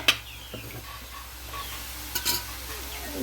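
Oil frying in a pan while samosa ingredients are cooked, a soft steady sizzle with occasional stirring scrapes and light clinks close by, and no voices over it.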